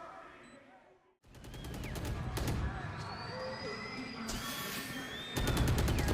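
Rapid automatic gunfire from the video game Valorant, heard in a pro esports match. Loud bursts of closely spaced shots come in rhythmic rattles, with a brief silence before them and a heavier volley at the end.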